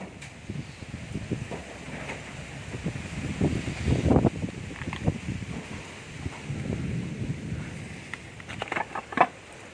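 Heavy rain pours steadily outdoors, a dense patter with gusts of wind and rustling, moderately loud and unbroken without talk.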